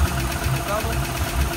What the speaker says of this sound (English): this is also the sound of V8 engine.